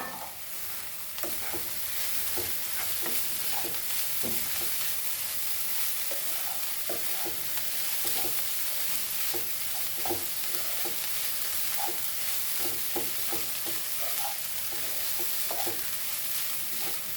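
Poha mixed and stirred in a pan, a soft steady sizzle under a long run of regular spoon taps and scrapes, close and fairly quiet throughout.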